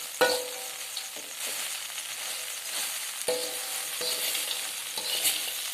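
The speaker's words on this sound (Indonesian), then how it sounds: "Kalau kita aduk, kita bolak-balik sampai rata, sampai semua ini tercampur dengan bumbu" Grasshoppers being stirred and turned in a pan with spices, a loud close sizzle broken by repeated scraping strokes of the spatula about every second, no speech.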